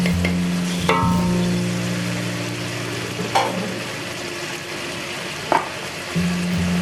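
Shrimp sizzle steadily in a hot pan while a utensil stirs and scrapes, with a few clanks against the metal.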